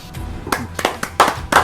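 A few sharp hand claps, about five separate smacks spaced unevenly and close by, during a casual podcast conversation about American prison life.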